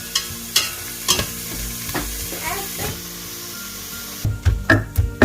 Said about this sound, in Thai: เขากะคนทุกอย่างนะคะเจียวทุกอย่างเข้ากันแล้วกะปล่อยให้เขาเป็นสีเหลืองจักหน่อยนะคะ